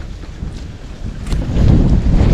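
Steady low wind rumble buffeting the microphone at a fishing spot, growing louder toward the end, with no voices.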